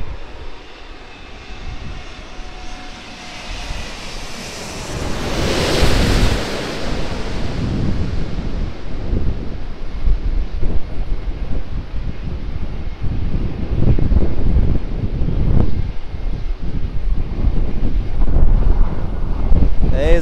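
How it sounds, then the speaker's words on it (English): Wind gusting against the microphone at an airport plane-spotting spot, a steady low rumble swelling and buffeting throughout, mixed with the distant roar of aircraft engines. "There's that wind."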